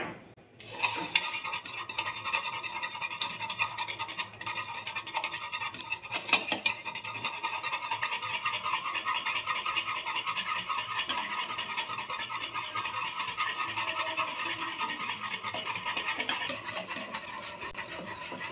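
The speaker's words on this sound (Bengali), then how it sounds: "5 মিনিট ভালো করে ফেটিয়ে নিয়েছি" Egg, white oil and sugar batter for a sponge cake is whisked steadily and briskly in a bowl, a continuous close scraping, rasping rhythm that runs unbroken for the whole stretch with no talking.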